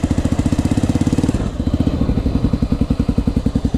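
Honda TRX 125 ATV engine running in second gear, a steady, close putter of rapid regular firing pulses that briefly stumbles and dips before settling back into an even beat.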